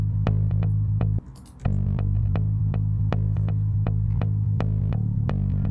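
Sahara recoil compressor making a steady, humming tone pump and stutter in a rapid, regular throbbing rhythm, with one brief dropout partway through.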